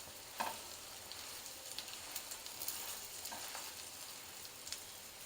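A thick achaari paratha sizzles and fries in a pan, with a soft, continuous crackle and small spitting pops throughout. It is faint and close, with no talking.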